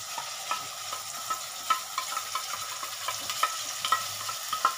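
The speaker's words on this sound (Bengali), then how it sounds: "আমি কি করব, মশলাটা আমি দিয়ে দেবো" Spice paste hits frying onions in a pan and sizzles, with a steady hiss broken by repeated scraping clicks of a stirring spoon, close and moderately loud with no voices.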